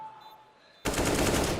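A short, loud burst of rapid automatic gunfire cuts in after a quiet moment, heard during a professional Counter-Strike match on the Dust2 map.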